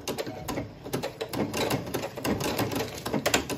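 Sewing machine stitching vinyl runs in a rapid, steady mechanical patter, close and moderately loud, with small pauses and speed changes as the material is eased through.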